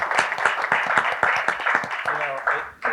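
A panel discussion audience claps through continuous talking, a loose, busy patter of hands underneath a voice that stays prominent throughout.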